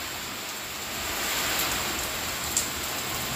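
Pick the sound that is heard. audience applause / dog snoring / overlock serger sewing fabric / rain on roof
rain on roof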